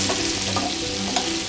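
Knobs of butter sizzle steadily in a hot pan alongside a venison steak, a close, continuous frying hiss with faint stirring movement.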